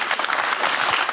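A brief burst of crowd applause during a live presidential digital town-hall talk, many hands clapping together at close range for just over a second.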